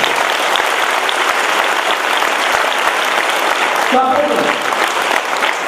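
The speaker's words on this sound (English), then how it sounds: "Give a big clap for all of them." Sustained audience applause for the cooks at a spiritual gathering in Thiruvannamalai, dense and steady throughout, with a brief murmur of voices near the end.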